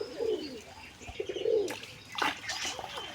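Pigeons coo in soft, low repeated phrases alongside chirpy bird calls and a splash-like burst, close by and with no talking.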